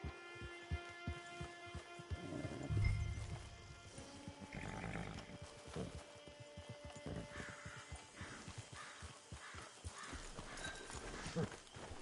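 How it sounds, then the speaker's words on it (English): Horse hooves clip-clopping in Red Dead Redemption 2, a steady rhythmic clatter of footfalls with a brief snort or whinny, faint and sustained throughout over soft ambient game sound. "Get your horse."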